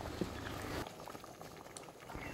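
Spiced jackfruit gravy, meant for a jackfruit and prawn curry, bubbles at a steady, soft boil in a pan, with close, continuous popping and patter.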